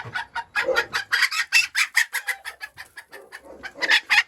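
Chickens cluck and squawk in a rapid, continuous flurry of calls, close by and fairly loud, with no talking.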